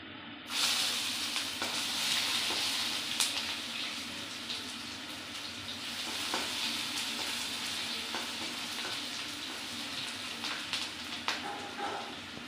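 Onions frying in a pan with bay leaves for vegetable fried rice on a lowered gas flame, giving a steady close sizzle with occasional crackles and faint stirring clicks throughout.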